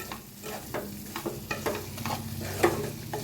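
Spiced green chillies with crushed peanuts being stirred in a pan, a spoon scraping and clattering in irregular strokes over a soft, steady sizzle, with one sharper knock near the end.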